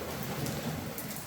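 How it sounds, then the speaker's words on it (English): Steady, dense rain pours outside a rainforest resort villa in Cap Cana, a continuous loud hiss with no breaks and no voices. "when it stops raining"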